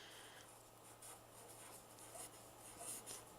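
A teacher writes a sentence by hand during a first-grade lesson, producing faint, quick scratchy strokes that come in short bursts.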